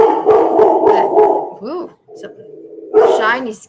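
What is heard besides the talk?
dog barking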